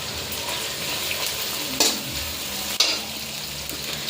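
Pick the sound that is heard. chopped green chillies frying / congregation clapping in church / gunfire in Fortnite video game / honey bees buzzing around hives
chopped green chillies frying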